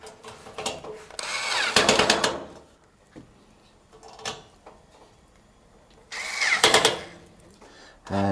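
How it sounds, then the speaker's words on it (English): Screws are driven with a power driver while a Heat Outdoors Athena Plus patio heater is being assembled: two loud whirring bursts close by, with softer clicks and handling noises between them. "we have 2 holes here which we need to put the screws into"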